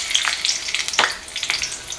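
Cumin and green chilies hiss and crackle in hot oil in a wok for a chana dal dish, with bright spitting pops over a steady close sizzle.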